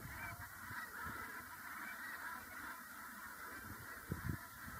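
A flock of brent geese honks at a distance over a steady hiss of background noise, soft repeated calls with a brief louder cluster near the end.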